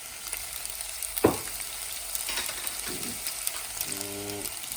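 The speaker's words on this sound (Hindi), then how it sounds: "इसमें मैं पास्ता सॉस ऐड कर दूंगा।" Tomato and basil pasta sauce sizzles and fries softly in a pan at close range. A spoon stirs through it with brief scraping and clicking sounds.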